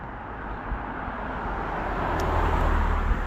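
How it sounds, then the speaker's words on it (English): Cars pass on a road beside a walker, a steady roadway rumble that swells gradually as the vehicles draw closer, with no talking. "as soon as these cars go by"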